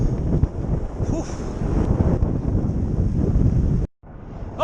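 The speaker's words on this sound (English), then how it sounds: "It was windy, fast," Strong wind roars and buffets the microphone for several seconds, cutting out abruptly near the end before a brief rush returns.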